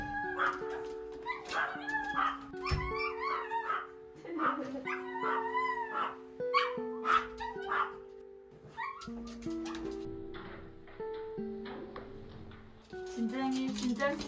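A distressed puppy, visiting in a hospital setting, whimpers, yelps and cries in long wavering high whines, near and continuous, with people talking and soothing it over the crying.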